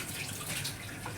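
Water poured steadily into a pot of mutton curry during cooking, a continuous close splashing rush with no talk.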